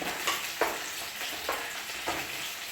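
Green chillies and curry leaves being stirred in a hot pan for a prawn dish, with a steady sizzle of frying under four scraping strokes of a spoon, close and fairly loud, no voices.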